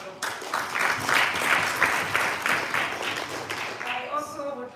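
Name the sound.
round of applause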